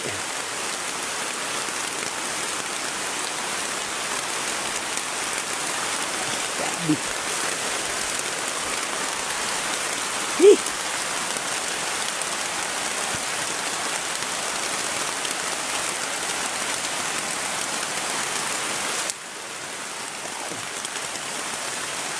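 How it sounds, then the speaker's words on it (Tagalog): Steady, dense downpour roaring across the whole clip, a constant hiss of heavy rain with a couple of brief knocks partway through. "Sobrang lakas talaga ng ulan"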